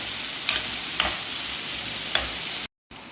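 Chicken liver sizzles steadily in a tawa with turmeric and spices, dhaba style, a constant frying hiss broken by a few sharp scrapes of a stirring spoon.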